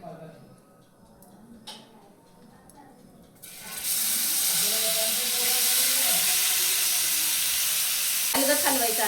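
Paneer pieces fry in a little oil in a pan, heard as a loud, steady hiss that starts abruptly partway through, after quieter handling sounds, with a clatter near the end.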